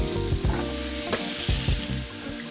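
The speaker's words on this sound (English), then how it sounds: "now I'm going to add the carrots to the sauteed onions and garlic" Onions, garlic and carrots sizzle loudly in a hot pan, with bursts of stirring and scraping over a constant frying hiss, close up and with no talking.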